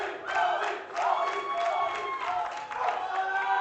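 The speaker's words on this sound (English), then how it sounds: "You could hear the Puerto Rican crowd shouting his name." Puerto Rican crowd at a powerlifting championship chanting and shouting a lifter's name in loud rhythmic bursts, with cheering and some clapping, close and continuous.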